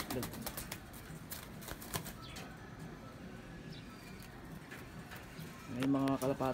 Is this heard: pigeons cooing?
yes